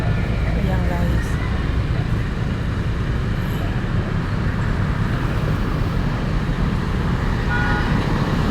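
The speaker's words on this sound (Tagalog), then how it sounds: "Marami mga sasakyan." A busy highway sends a steady, loud wash of passing cars and trucks past a shaded roadside spot with trees, continuous rumble and hiss throughout, with a person talking over it at times.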